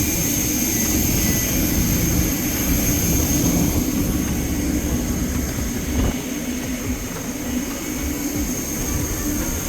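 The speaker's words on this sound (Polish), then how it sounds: "Siedzimy już w samolocie, zaraz lecimy do Wiednia" Steady engine roar inside an airliner cabin before a flight to Vienna, a loud constant hum and hiss that continues evenly with no talk.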